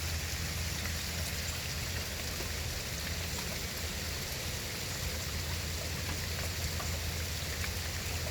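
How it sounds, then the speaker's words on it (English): Steady rain falls on a flooded yard, an even, unbroken hiss with a low rumbling undertone that holds at the same level throughout, with no voices. "So it's just been rain, pretty steady."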